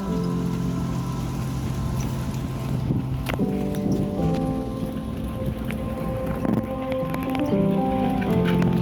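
A small boat runs across a bay back to the dock. The engine drones loudly and steadily, with water and wind noise washing over it throughout.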